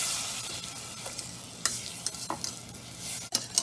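Butter melting and bubbling in a pan while being made into brownies, heard as a steady soft sizzle with occasional stirring scrapes and light clinks against the pan, close by and fairly quiet.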